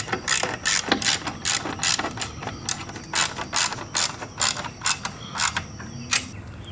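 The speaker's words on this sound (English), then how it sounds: "just tighten it up until the washer flattens out" A ratchet wrench clicks in quick, uneven bursts as a bolt with a lock washer is tightened on a boat trailer's plastic tail light housing, with close, crisp pawl clicks and short pauses between strokes.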